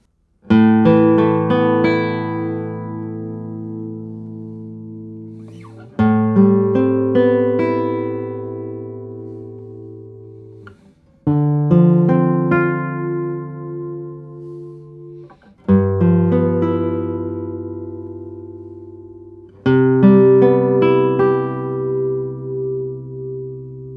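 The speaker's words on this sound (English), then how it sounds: "This guitar has its own character and the tone color is very beautiful." A 2018 Simon Ambridge classical guitar with a spruce top, fan bracing and satinwood back and sides rings out in five slow strummed chords, each left to ring and decay, clear and close with no voices.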